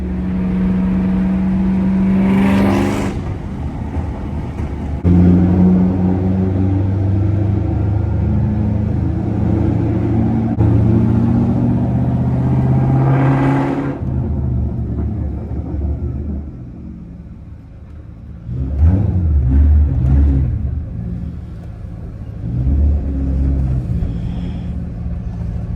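Cobra sports car engine rumbling steadily at close range, with revving swells partway through and near the end, heard alone without talk.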